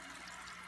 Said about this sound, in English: so many bubbles.